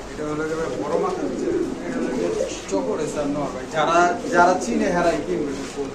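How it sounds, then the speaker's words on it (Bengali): Lahori pigeons coo in soft, rolling bursts at close range, the throaty calls repeating toward the end while people talk steadily over them. "চকর রেসার কবুতর নর একটা কবুতর"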